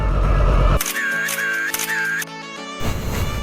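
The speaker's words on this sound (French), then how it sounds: "je peux m'arrêter par là pour prendre des photos" A camera fires off a few quick photos beside a 2020 Triumph Street Triple 765 RS motorcycle, with sharp close clicks and whirs set between bursts of outdoor background noise.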